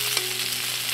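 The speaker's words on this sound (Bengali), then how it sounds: "একদম বেশি টপি তুলতে খুব ভালোভাবে ভেজে নিতে হবে" Bhetki fish paturi wrapped in banana leaves fries in a pan with a dense, steady hiss of sizzling oil, loud, close and unbroken, with no talking.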